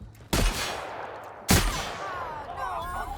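Two heavy shotgun blasts in The Outer Worlds ring out about a second apart, each a sharp boom with a decaying tail, followed by faint whining game effects.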